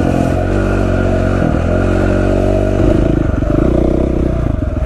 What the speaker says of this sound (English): I'm taking my bike for a ride with James